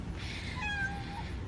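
A cat meows in an outdoor kitty play pen, giving one drawn-out, clear cry near the microphone over a low background rumble.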